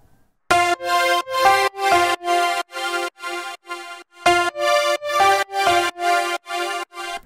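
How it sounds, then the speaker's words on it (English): A sampled grand piano using the Keyscape Grand Pop preset plays a melody of clear, evenly spaced notes and chords, each struck crisply and ringing briefly before the next, with a short pause midway. "So I added a real sample piano keyscape. The Grand Pop preset"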